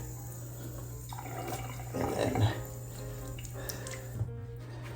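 A tap runs briefly to wet a Norwex Enviro cloth, a soft trickle swelling into a short splash near the middle, while a person speaks a few words.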